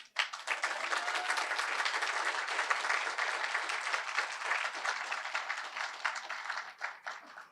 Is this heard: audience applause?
yes